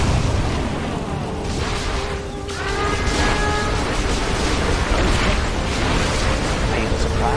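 A nuclear weapon detonates in Command and Conquer Generals, a loud, sustained rumbling roar with crackling bursts and game voices over it.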